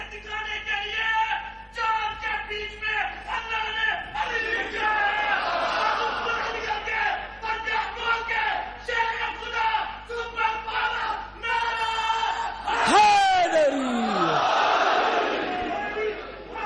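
Audience at a religious sermon chanting slogans together, a loud rhythmic crowd chorus of repeated calls, followed by a swelling roar of voices near the end.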